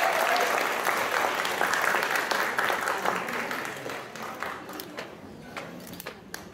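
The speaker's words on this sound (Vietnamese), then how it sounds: "Xin quý vị cho một tràng vỗ tay cho cô giáo Liên Tâm." At a Liên Tâm Music Academy performance, an audience applauds a teacher. The clapping is full at first, then thins and fades toward the end.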